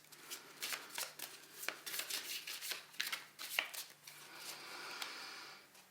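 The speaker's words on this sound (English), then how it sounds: "So I'm just going to shuffle the cards" Tarot cards are shuffled by hand in quick riffling bursts, close and crisp, several short flurries of papery slaps over about six seconds in a quiet room.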